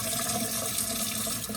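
Tap water running into a kitchen sink while dishes are being washed, a steady, close splashing stream with no pauses and no talking.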